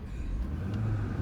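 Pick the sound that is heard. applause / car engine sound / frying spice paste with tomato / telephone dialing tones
car engine sound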